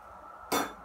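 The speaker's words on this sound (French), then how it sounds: "je casse les œufs aussi" An egg cracks once, sharply and close, against the rim of a bowl of Moroccan cake dough, then faint kitchen quiet follows.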